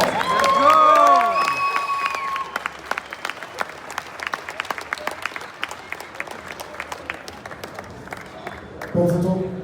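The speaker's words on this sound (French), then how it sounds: "on l'applaudit très fort." A crowd at a large Canadian bodybuilding expo cheers and shouts loudly at first, then keeps up sustained clapping with sharp individual claps standing out, before voices rise again at the end.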